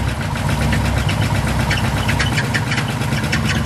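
A car engine with a 440 V8 runs close by with a little throttle, a loud rough rumble with rhythmic ticking and knocking clatter throughout.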